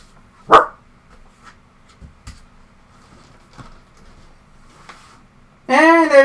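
A small female dog barks in sharp single yips, loud and close, with long quiet gaps between the barks. Faint scuffling and soft bumps fill the gaps, and a burst of whining or high-pitched vocalizing comes at the end.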